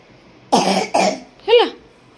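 A sick child coughs three times, two quick harsh coughs close together and then a third after a short gap, heard up close with no talking.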